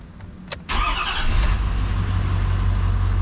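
A car's engine cranks briefly and catches, then settles into a steady, fairly loud idle close by; the car has a fault that had set the battery and check engine warning lights.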